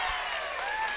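A crowd on the sidelines of a varsity girls' volleyball match cheers and shouts in a brief steady roar, with a commentator's voice over it.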